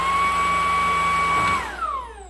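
Invictus X7 cordless vacuum cleaner switched into power mode, a loud steady motor whine with a high tonal pitch that holds for about a second and a half, then drops and winds down as the motor changes speed.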